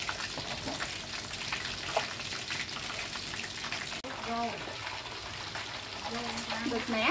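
Breaded chicken wings frying in a pan of hot oil, a steady dense crackle and sizzle running loud and close throughout, with someone talking over it.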